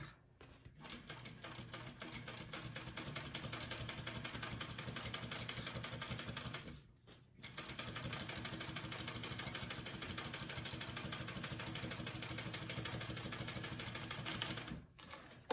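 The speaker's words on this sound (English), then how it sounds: "top stitch along the bottom piece here at an 1/8 inch" Sewing machine topstitching along the bottom piece of a shoulder bag, a rapid even mechanical chatter running steadily with one short pause midway, close and fairly quiet with no talk.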